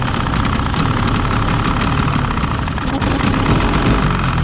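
A two-stroke outboard motor on a Carolina Skiff boat idles loudly and steadily close by, giving a continuous rumbling drone with a fast, even pulse and no break.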